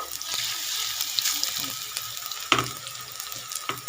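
Pakoras deep-frying in hot oil make a steady, close sizzle, broken by occasional sharp pops and crackles.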